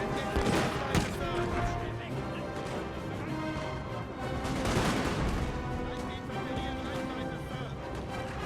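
Musket volleys in a Napoleon Total War battle, a distant crackle of massed fire with heavier crashing bursts, under a steady wash of battlefield noise and someone talking.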